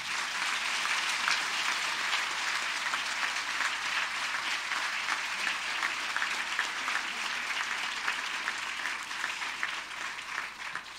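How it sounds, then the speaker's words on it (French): A crowd at a university graduation ceremony applauds for faculty members, an even, dense roar of clapping that holds at a steady level throughout. "On les applaudit"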